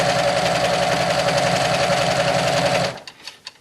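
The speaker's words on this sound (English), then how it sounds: "a serger sews way faster than a traditional sewing machine" A serger sewing machine runs fast through fabric with a loud, even mechanical whir for about three seconds, then stops abruptly, leaving quiet room noise.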